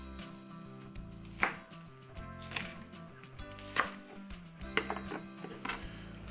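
Knife chopping green onions on a cutting board, a few sharp irregular strikes spaced apart, close up over a low background hum.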